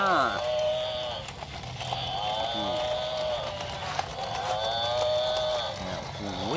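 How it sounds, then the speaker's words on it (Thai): A buffalo moos in a children's animal cartoon, giving long drawn-out lowing calls with a bouncy, playful tone, close and fairly loud. They repeat through the stretch alongside other cartoon sounds. "อ่าตัวต่อไปครับเป็นเจ้าควาย"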